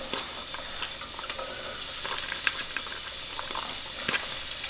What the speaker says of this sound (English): We're gonna add our olive oil and the onions themselves.